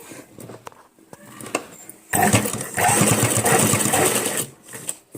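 A sewing machine stitches a blouse neck piece: a quiet start with a few soft clicks, then a steady loud whirring run of about two and a half seconds before it slows and stops.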